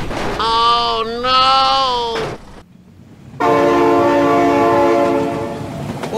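Loud train horn blasts in BeamNG.Drive, a sustained chord that dips in pitch, breaks off briefly, then returns steady and strong, with the rumble of the passing train beneath.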